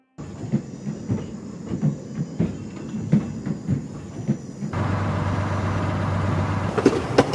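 A video-game train rumbles along with rhythmic clickety-clack thumps, then shifts into a steadier, louder roar with a low hum.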